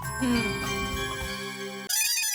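A phone rings with a steady tonal ringtone in a household sitcom scene, a clear ringing that cuts off abruptly near the end.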